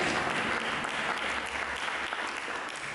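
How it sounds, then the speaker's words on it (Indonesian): A church congregation applauds for Jesus, a dense, continuous roar of many hands clapping that stays loud and even throughout. "berikanlah tepuk tangan bagi Yesus"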